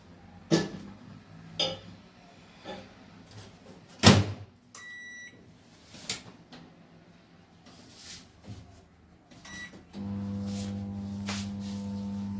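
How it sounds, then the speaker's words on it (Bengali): Two potatoes go into a microwave oven to parboil for two minutes: several clunks of the door and handling, a quick series of button beeps, then a steady mechanical hum once heating starts. "আলুটা মাইক্রোওভেনে দিয়ে দিলাম একটু সেদ্ধ হতে"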